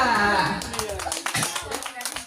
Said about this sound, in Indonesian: Oke, beri tepuk tangan untuk Hafiza